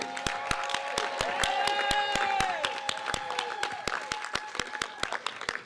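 A crowd claps for a band at an outdoor transit center celebration ceremony. Scattered sharp, distinct claps sound close by, over sustained brass-like tones that fade toward the end.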